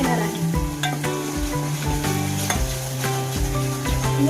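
Ground onion masala fries steadily in hot oil for chole, a continuous close sizzle with stirring scrapes of a spoon against the pan throughout.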